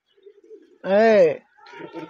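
A single close, drawn-out pigeon coo, preceded by faint soft sounds and followed by quieter background noise.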